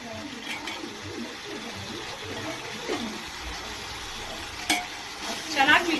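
Green peas tipped into a frying pan and stirred, giving a steady low sizzle with soft scraping strokes and a brief clatter near the end, while someone speaks.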